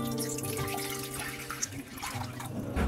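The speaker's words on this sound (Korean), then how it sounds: "물 1리터를 넣을게요." One liter of water pours into a cooking pot for soybean paste stew, a soft, steady stream with faint dripping and splashing, close and quiet.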